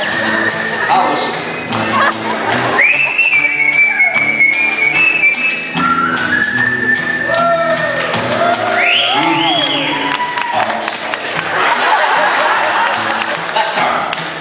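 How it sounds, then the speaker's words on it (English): Someone whistles in bright gliding and rising tones amid a busy, noisy room with crowd chatter and shouts. "I'll whistle."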